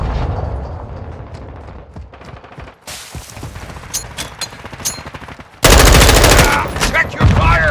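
Rapid automatic gunfire in Call of Duty: Modern Warfare II, loud dense bursts with sharp cracks, rising to a heavy sustained barrage near the end, with a voice shouting briefly in between.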